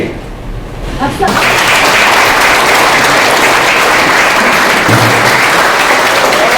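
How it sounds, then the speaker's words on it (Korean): Loud, dense applause from a crowd at an academic conference on classical text translation, starting abruptly after a second of quieter room noise and holding steady to the end. "박수."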